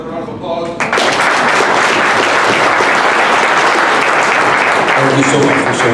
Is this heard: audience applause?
yes